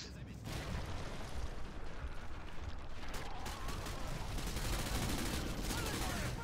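Dense, sustained gunfire from a Modern Warfare 2 co-op Spec Ops mission, a steady rattling fusillade running the whole stretch alongside game effects, loud and continuous with no let-up.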